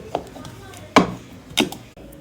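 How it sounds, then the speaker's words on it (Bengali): Four or five roasted chilies being mashed in oil into a bhorta, with three distinct close thumps spaced unevenly over a low background hum. "এগুলো আমি একবারে একদম তেলে নেব একদম একদম ভর্তার মতো করে ফেলবো"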